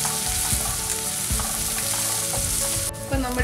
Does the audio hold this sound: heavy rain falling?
no